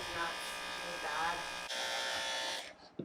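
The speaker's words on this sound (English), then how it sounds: "I basically shaved his entire bum off." Electric clippers buzz continuously while shaving a Tibetan Mastiff's fur, a close, steady whine that shifts slightly in pitch and then cuts out near the end, with speech faintly mixed underneath.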